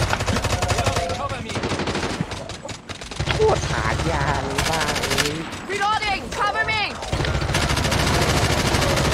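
Rapid automatic gunfire in the Call of Duty Mobile zombie mode video game, with bursts of shots and loud game effects while players talk excitedly over the action.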